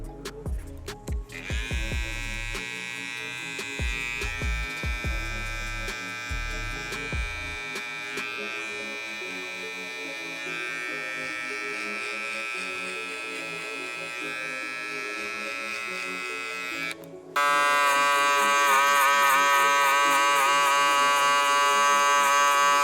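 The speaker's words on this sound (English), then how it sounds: "how high to come up with our electric shaver" An electric shaver buzzes steadily and loudly while cutting hair for the whole stretch, with some clicking handling noise at the start and a shift to a higher, harsher whine near the end.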